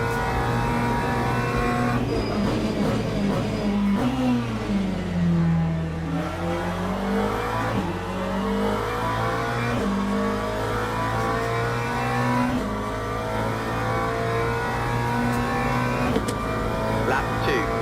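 Steady, loud race car engine drone in the sim game Le Mans Ultimate, rising and falling in pitch through gear changes and throttle shifts across the whole stretch, with a voice talking over it at times.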